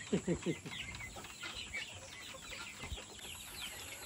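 Chickens cluck in short bursts at close range, with quieter clucking and soft chatter from people continuing in the background.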